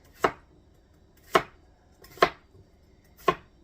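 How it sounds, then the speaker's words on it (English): A knife slicing food thinly on a cutting board: four crisp, separate chops at uneven intervals, close and clear, with quiet between cuts. "Then we're just going to slice those up nice and thin."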